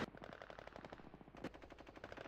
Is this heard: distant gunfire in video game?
yes